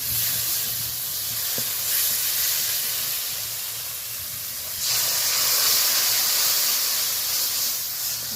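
Water poured into frying masala for a fish curry hisses and sizzles steadily in the pan, with a brief sharper tick early on and a louder surge of sizzling about halfway through. No one speaks.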